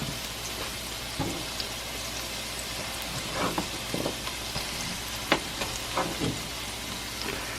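A pork shoulder steak simmers in a skillet with a steady, bubbling sizzle and occasional soft pops and clinks, close and alone, with no voices.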